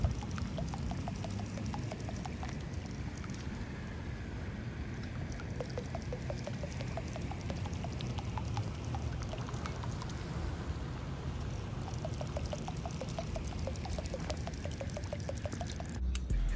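A Chasebaits Drunken Mullet topwater lure works across the water in a steady run of small splashes, gurgles and pops. The sound is continuous and close, and it is carried over a constant low boat or wind rumble.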